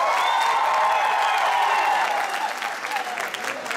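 Audience applause and some cheering at a Turkmenistan Neutrality Day celebration at a university, loud continuous clapping across the whole stretch with a sustained tonal hum beneath, easing slightly toward the end.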